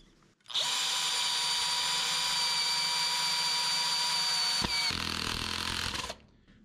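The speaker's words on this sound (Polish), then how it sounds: "I nie operując jeszcze maksymalnym momentem obrotowym, bez problemu ten wkręt wkręciliśmy." A FERM CDM 1149 cordless drill drives a screw with a loud, close, high motor whine that holds steady for about five seconds. It drops in pitch near the end, then spins down and stops.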